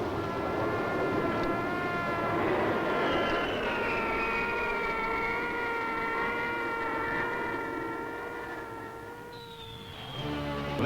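Air Force One jet passing overhead, a loud sustained roar with whining tones that slide slowly downward, easing off near the end before another sound cuts in.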